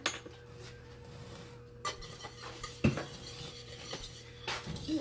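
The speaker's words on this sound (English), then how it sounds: "Addie's going to start mixing that." Vanilla being stirred into cupcake batter in a bowl, with soft scraping and swishing and a few sharp clinks of a utensil against the bowl, close up and fairly quiet.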